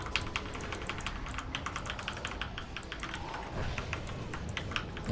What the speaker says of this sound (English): So tomorrow I won't have to worry about my keyboard noises anymore.